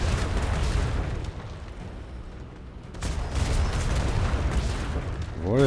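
Ship cannons firing a broadside in the video game Atlas, heavy booming blasts that roll and overlap into a sustained rumble, loud and close, swelling again near the end.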